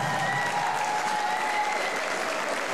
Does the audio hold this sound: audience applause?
yes